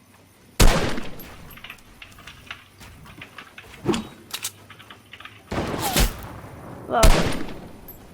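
Assault rifle gunfire rings out in a first-person shooter game as several sharp, loud shots and short bursts go off at irregular intervals, with a player's voice exclaiming briefly between them.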